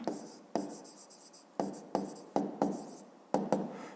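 A pen writing a word on paper during a fifth-grade math exercise, several short scratchy strokes in bursts separated by brief pauses, close and clear with no talking.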